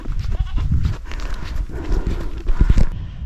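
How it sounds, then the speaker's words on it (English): Feral goats on rocky cliff faces in Galloway Forest Park, moving and calling in a noisy group: hoof clatter and scuffling mixed with bleats, loudest near the end. "seeing all the feral goats. They're very, very noisy, you definitely can't miss them"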